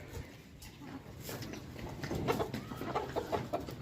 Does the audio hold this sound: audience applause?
no